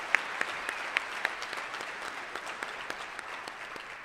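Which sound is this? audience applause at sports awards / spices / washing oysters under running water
audience applause at sports awards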